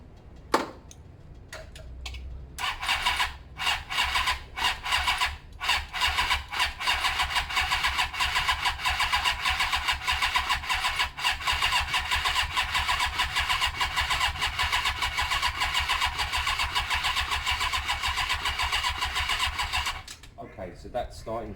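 A Suzuki GS500 motorcycle with a slip-on exhaust, under repair for a no-spark ignition fault, cranks in repeated bursts, then catches and runs with a loud, uneven, rapid ticking idle for about twenty seconds before cutting out.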